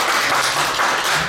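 An audience claps for a speaker at a talk, a brief, dense and fairly loud burst of applause with no voices over it.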